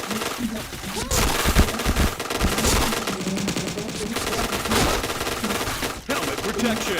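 Rapid automatic fire from a USF weapon in a shooter video game, loud continuous bursts with heavy low thumps, nearly unbroken for several seconds, with a player's voice faintly underneath.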